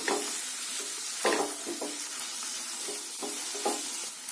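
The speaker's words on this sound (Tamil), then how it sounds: "இப்ப தக்காளி உள்ள சேர்த்துட்டு வெங்காயமும் தக்காளியும் நல்லா சாஃப்டா ஆகிற அளவுக்கு வதக்கிடலாம்" Onions and tomatoes sauté in a pan for an egg pepper fry, giving a steady sizzle with several short scraping stir strokes scattered through, close and fairly quiet.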